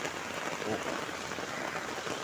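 Heavy rain pours down on a village street, a dense, constant hiss of drops striking surfaces, close and unbroken.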